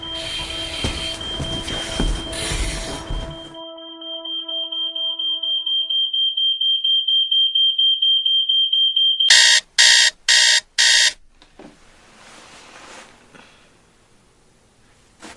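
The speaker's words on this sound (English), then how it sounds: "I guess it's really only the smoke alarm that saved me here." A loud, shrill smoke alarm tone sounds steadily, then breaks into several rapid sharp beeps, with rustling and handling noise before and after.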